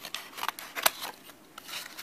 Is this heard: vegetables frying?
no